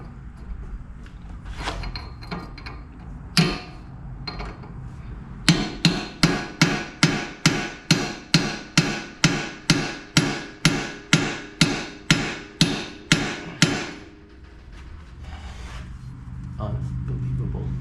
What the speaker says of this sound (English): Hammering it back through.